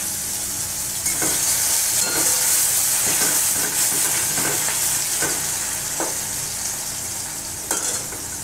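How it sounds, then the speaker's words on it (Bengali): Onions and cumin fry in a pan, giving a steady loud sizzle with a broad hiss throughout and a series of light stirring scrapes and clicks at irregular intervals. "পেঁয়াজগুলো ভাজা হয়ে গেছে লালচে লালচে মতো।"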